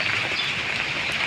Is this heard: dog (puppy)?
no